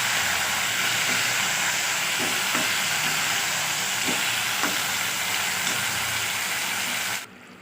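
Fish frying in a pan, a loud, steady broadband sizzle and steam hiss held close for several seconds with faint intermittent ticks, then cutting off abruptly near the end.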